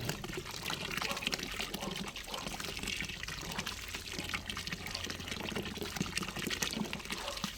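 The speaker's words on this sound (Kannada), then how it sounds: "ನೀರು ಬಿಟ್ಟಿದ್ದೀನಿ" A village water tap runs in a steady, fairly quiet gush of flowing water that continues without a break.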